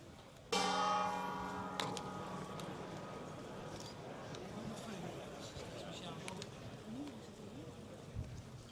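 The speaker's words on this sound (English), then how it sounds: "The gong has been sounded by Emilia Castello" A gong is struck once to open a round at the Tata Steel Wijk aan Zee 2026 chess tournament, a loud shimmering hit that decays slowly. Faint chatter and room noise follow.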